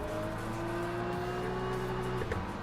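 Race car engine in the Le Mans Ultimate racing game holding high, steady revs with a sustained droning tone, other cars around, one slight shift in pitch near the end.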